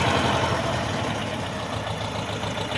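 A small tractor engine idles steadily and loudly, a constant low chugging drone with no pauses or voices.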